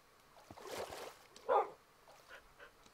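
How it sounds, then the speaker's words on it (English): Dogs in Minecraft give short game barks and whines, a few brief yelps spaced apart at moderate volume over a quiet background with faint trickling water. "Oh, dogs are with me, that's good."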